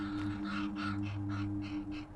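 Ravens in sagebrush country caw repeatedly, giving about six harsh calls in a steady series over a low background hum, moderately distant and fairly faint.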